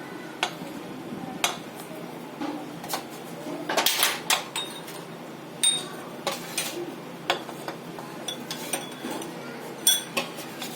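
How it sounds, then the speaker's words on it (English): A saucepan handled on a gas stove, with scattered light metallic clinks and knocks of cookware at close range, sparse and quiet, no talking. "So I am going to switch on the gas. And going to use this sauce pan."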